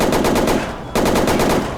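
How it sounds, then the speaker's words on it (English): Rapid bursts of automatic gunfire in the video game Watch Dogs, loud and reverberant, on city streets, with a brief pause near the middle before another sustained burst. "realistic reverberating gunfire that immediately raises the stakes"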